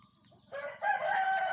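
A rooster crows once, a short, fairly close call rising then holding, over quiet background chatter of other birds.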